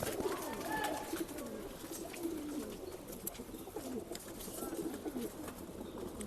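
Pigeons coo steadily in a breeding loft of Rekadar-line birds in Bangalore, low throaty calls repeating and overlapping close by with a busy flock murmur behind.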